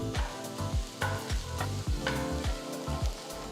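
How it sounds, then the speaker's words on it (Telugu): Tamarind and peanuts being stirred and fried in a pan, with a steady sizzle and a regular rhythmic scraping of the spoon against the pan, close and alone without talk. "ఇది కూడా కలిపి కాసేపు వేయించాలి."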